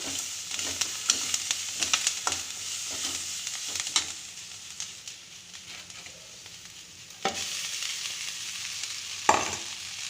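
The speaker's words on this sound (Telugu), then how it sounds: "అటుకులు వేసుకొని కలబెట్టి చేస్తే అయిపోతుంది" Flattened rice, turmeric and chili stirred in a pan, with soft sizzling throughout and repeated scraping strokes of the spoon, close and fairly quiet, with no talking.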